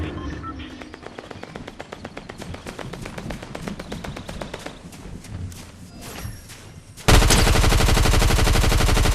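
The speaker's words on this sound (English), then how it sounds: "Come on, let me shoot them." Rapid gunfire in a video game, a long run of evenly spaced shots followed by an abruptly louder, dense stream of automatic fire at the end.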